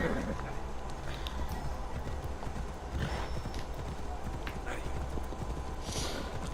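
Steady clip-clop of horse hooves trotting at an even rhythm in Assassin's Creed Odyssey, with a brief whinny and some ambient game sounds underneath.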